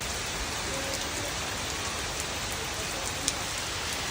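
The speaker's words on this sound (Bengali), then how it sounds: "আবার বড় বৃষ্টি নেমেছে এক দৌড়ে ঢুকে পড়তে হলো ছাউনির নিচে" Heavy rain in the Sundarbans pours steadily, heard from under a shelter, a dense, even hiss of drops drumming on surfaces with no let-up.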